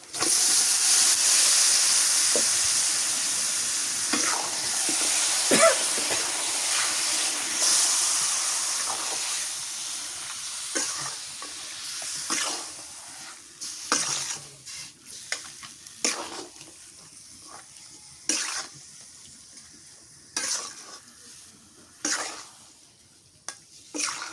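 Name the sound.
meat added to a pan and frying, sizzling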